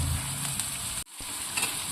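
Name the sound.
green chillies and onions frying in a pan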